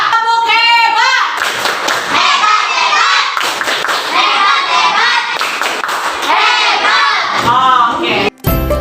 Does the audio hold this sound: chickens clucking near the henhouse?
no